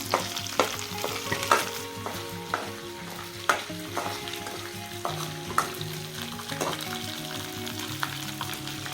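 Ginger and garlic fry in oil in a pan for a fish curry, with a steady sizzle and repeated sharp scraping stirs and clinks of a spoon against the pan.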